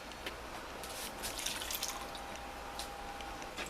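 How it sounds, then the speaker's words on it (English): Water poured into a pan holding leftover creamed corn, a quiet, steady splashing trickle that stays faint and even throughout. "I'm going to put a little water in here to wash out all that goodness."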